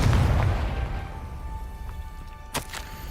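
A Confringo blast from a spell in Hogwarts Legacy lands as a loud, booming burst at the start and decays into a rumbling tail, followed later by a couple of sharp, fainter pops.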